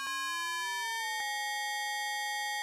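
Omnisphere FM synth tone as the modulation depth rises to 100%: a bright, buzzy sustained tone whose lowest pitch slides upward and fades while the upper sidebands take over. A faint click lands midway, and the tone holds steady afterward.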